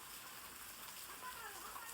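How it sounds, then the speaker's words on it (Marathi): Rain falling at 6:30 in the evening under a heavily clouded sky as daylight fades: a faint, steady soft hiss with no distinct drops, continuous throughout. "आता 6:30 वाजता पाऊस चालू झालेला आहे"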